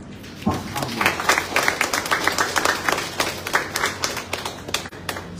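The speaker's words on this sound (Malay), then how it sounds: "Satu tepukan" An audience at a political ceramah rally breaks into a burst of hand clapping, individual claps distinct and fairly close, rising quickly and then tapering off after a few seconds.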